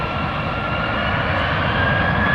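A Southwest Airlines jet rolls for takeoff on runway 31 right at Dallas Love Field, its engines giving a loud, continuous rumbling roar that builds slightly as it goes, with no voices over it.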